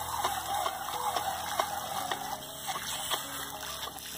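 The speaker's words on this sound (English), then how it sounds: "I think he's more like fascinated with the hose and water coming out." Steady spray of water from a garden hose splashing and trickling near a pig, with a continuous hissing wash and scattered splatters throughout.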